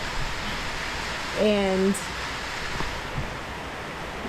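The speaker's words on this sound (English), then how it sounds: "have a rainy day and sit on the porch" Steady rain falls on a porch during a rainy day in Belize, a dense continuous hiss close around the listener, with a person speaking briefly over it.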